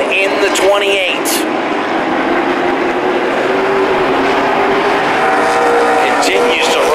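Pro stock race cars roar down the back straightaway of an oval track in a steady, loud wash of engine noise, with an announcer talking over the top throughout.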